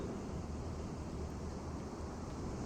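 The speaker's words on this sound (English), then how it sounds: "Nice wind sounds." Steady, broad rushing wind noise from a PC video game, Amerzone: Explorer's Legacy, constant and fairly soft, with no other sounds standing out.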